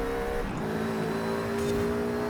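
At full throttle, the engine of an A-class race car in Forza Horizon 5 holds a sustained high-revving drone, its pitch dipping slightly and then steadying, loud and unbroken with no voices.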